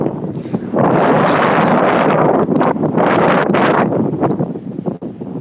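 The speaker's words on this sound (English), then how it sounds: "it's hard to think in that wind" Strong hurricane wind from Hurricane Francine at Lake Pontchartrain buffets the microphone in a loud, continuous roar with gusting rumble and brief dips, no voice heard.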